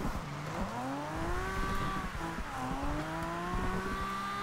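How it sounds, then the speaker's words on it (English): Engine of a 1969 Nissan Fairlady Z in the Forza Horizon 2 racing game, revving through rising and shifting gears with tire squeal, steady and close throughout, with no talk. "Engine sounds brilliant"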